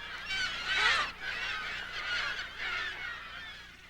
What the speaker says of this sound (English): the piercing cry of gulls breaks the desert stillness.